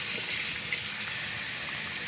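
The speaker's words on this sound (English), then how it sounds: "So there's the water hitting it pretty hard." Bathroom tap water gushes hard and steady over a hand and lip liners under the stream, a continuous broadband hiss with no voices.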